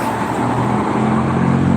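Dense, loud road noise from a jammed Jakarta toll road, engines idling and rumbling together in a steady wash for a brief moment, with no talk over it.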